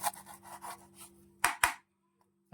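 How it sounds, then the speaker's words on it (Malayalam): A knife saws through bread, trimming the crusts off the slice for an egg sandwich: a few soft rasping strokes close up, then two sharper cuts before stopping. "ഈ ബ്രെഡിൻ്റെ 4 വശം ഒന്ന് കട്ട് ചെയ്ത് കളയണം"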